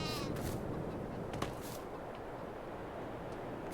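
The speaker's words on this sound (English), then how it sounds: "So 25 sheep." Sheep bleating in a farming video game, a few short calls over a steady low background rumble of game ambience.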